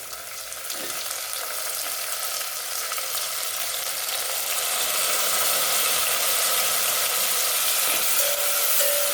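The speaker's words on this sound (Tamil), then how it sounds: "தக்காளி வந்து நல்லா வதங்கணும்" Country tomatoes sautéing in a pan for Kongu-style rice and lentil dish, a steady, even sizzle and hiss that holds throughout with faint scraping ticks, no voices.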